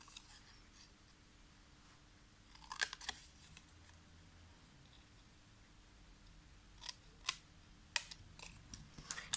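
Scissors cutting paper while making a handmade flower card, a few quiet, crisp snips and rustles scattered over a near-silent room, with clusters of close cuts near the end.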